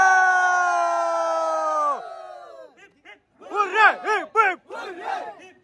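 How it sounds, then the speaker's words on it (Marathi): A crowd raises a sustained, chanting shout that fades out, followed by a few rising whoops and rhythmic group cries, loud and close. "बघू शकता तुम्ही जल्लोष खतरनाक"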